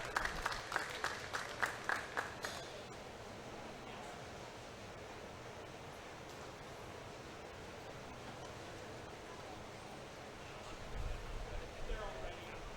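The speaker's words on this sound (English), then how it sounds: "let's give all those exhibitors a nice big round of applause here in this lineup" A crowd at a junior fair dairy feeder calf show applauds the exhibitors in the lineup. Brief, faint clapping at the start fades into a soft hiss of background noise, and a short burst of applause returns near the end.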